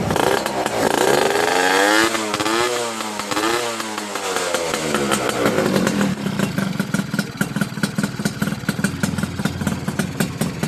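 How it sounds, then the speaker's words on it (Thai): A Honda Nova RS Super motorcycle engine starts cold and revs up and down in a few rising and falling sweeps, then settles into a steady, close, busy idle with no talking. "ค่อยได้สตาร์ทนะครับนานๆ มาสตาร์ทที"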